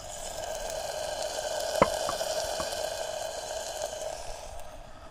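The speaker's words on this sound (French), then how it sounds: "Ça commence à cuire gentiment." Food sizzles steadily in a pan over a campfire-style cooking setup, a soft continuous hiss with one brief sharp crackle near the start and no talking.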